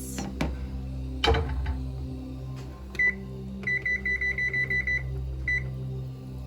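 A short series of electronic beeps from a microwave keypad, one tone followed by about nine quick evenly spaced beeps and a final one, over faint kitchen hum.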